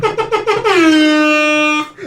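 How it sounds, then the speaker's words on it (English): An air horn sounds in several quick staccato blasts, then one long sustained loud blare that abruptly stops. "I'm so glad we got the air horn now"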